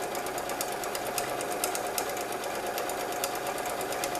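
A sewing machine stitching a spiral quilt runs continuously at an even speed, a close, loud, steady mechanical whir with rapid needle ticking throughout and no voices.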